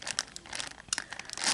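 Plastic bag crinkling and rustling as it is opened, a close, dry burst of irregular crackles lasting under two seconds, alone without talk.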